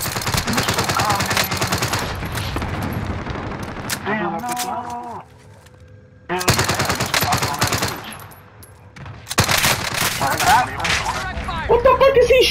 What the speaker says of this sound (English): What the fuck is he shooting me with?